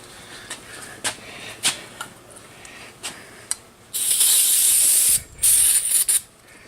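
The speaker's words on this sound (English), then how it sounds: "Just kind of gave it a shot of carb cleaner." Two loud bursts of carb cleaner sprayed onto the carburetor of a Kawasaki KLT 110, a steady hissing jet about a second each, following a few faint clicks and taps, with no talking.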